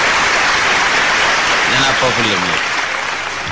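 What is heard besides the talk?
audience applause at a mushaira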